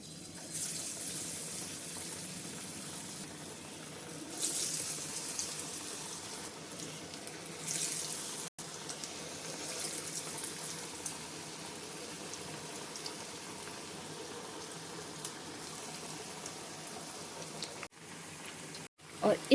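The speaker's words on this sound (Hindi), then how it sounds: "अब चलिए इनको फ्राई करते हैं।" Chana dal vadas frying in hot oil in a kadai over a medium flame, a steady broadband hiss and crackle that runs throughout with small swells, fairly close.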